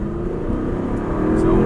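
A race car on a track lap accelerates under power, its engine droning with a steady low hum that rises slightly toward the end, close and loud beneath a driving coach's voice.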